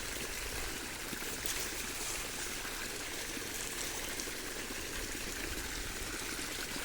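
Water rushes steadily from a motor pump pipe irrigating a farm field, a continuous broadband gushing hiss with no pauses or voices.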